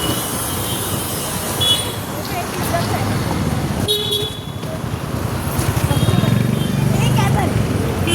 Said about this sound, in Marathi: हा येते गाड्या बघा